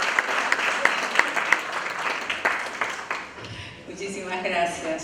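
An audience at a labour and culture congress applauds a speaker with dense clapping and a few sharper claps standing out. The applause fades after about three seconds, and a voice begins speaking under the dying claps.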